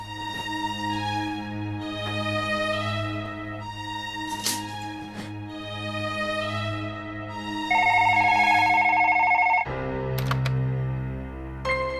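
Telephone ringing on an outgoing call, a repeated electronic ringback tone in even bursts, loud and close, with a brief change of tone near the end before another ring.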